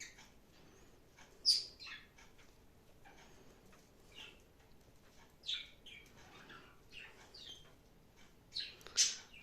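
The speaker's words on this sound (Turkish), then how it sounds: "Kuşlarım var. İki tane. Onlar habire ötüşüyor." Two pet birds chirp indoors in repeated bright, quick bursts, some louder and closer, against a quiet room.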